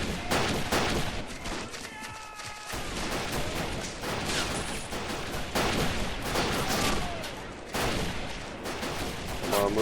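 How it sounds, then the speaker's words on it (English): An MG42 machine gun firing in the strategy video game Men of War: Assault Squad 2, rapid bursts of gunfire and battle noise running almost continuously with a brief lull, amid the wider din of combat. "Yeah, MG42 is doing damage out here."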